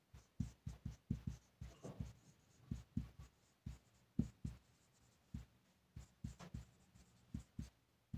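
Chalk or marker strokes on a board as the time is written out, a series of short scratchy taps in uneven clusters, close and fairly quiet with no talking.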